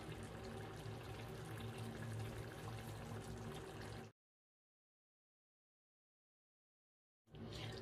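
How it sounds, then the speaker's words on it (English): Water pours steadily from a container into a pot of chicken meatball stew, a close, splashing gush that cuts off abruptly, falls silent for a few seconds, then starts again. "I'm going to add in water one more time"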